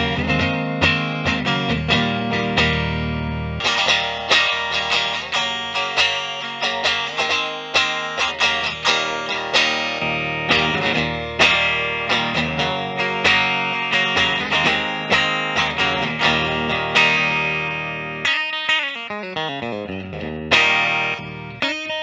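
A Fender J Mascis Telecaster electric guitar played through heavy fuzz chugs out distorted riffs, loud and continuous with rhythmic chord stabs and a bending, wobbling passage near the end.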